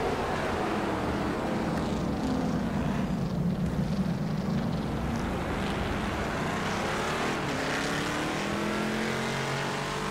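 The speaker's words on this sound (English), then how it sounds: "Great replay sound, isn't there? Grunt from the engine." A Formula 1 racing car engine in the F1 2017 video game replay on Xbox One X growls steadily throughout, with a rough, continuous roar and slight pitch shifts as it revs, loud and close with no talking.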